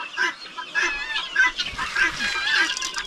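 Chicks and their mother hen call close by, with short high peeps repeating at a steady pace over soft background clucking.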